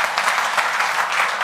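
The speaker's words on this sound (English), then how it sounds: "So clap for yourself." A classroom audience of students in an English-speaking activity claps steadily in a dense, even burst of many hands.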